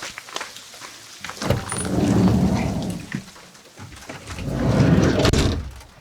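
Two swelling bursts of hard pattering as hail and rain drum on a van roof in the mountains, rising loud and fading between.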